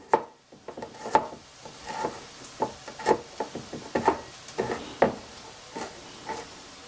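A knife taps rapidly against a wooden cutting board in an irregular run of sharp chops, cutting garlic into small pieces, close up, with no talking.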